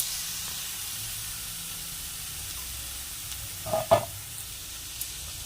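Leafy greens (shak) frying in a pan with turmeric and salt give a steady low sizzle and hiss, with a couple of louder stirring clatters near the end; no talking.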